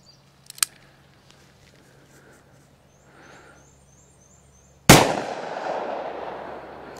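A Taurus revolver chambered in .327 Magnum fires one loud, sharp shot over a chronograph, followed by a long, fading ringing tail. A faint click comes just before it.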